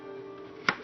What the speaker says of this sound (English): Chop up my onion